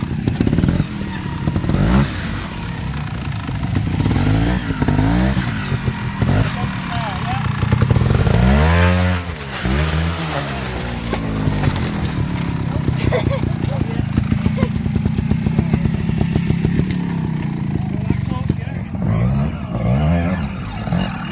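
An old Stalker trials motorcycle at a national trials event revs repeatedly, its engine rising and falling in pitch throughout, loud and close, with someone talking over it much of the time.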